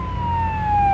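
A police car siren wails close by and loud, one long steady tone sliding slowly downward through the second with no break and no voices.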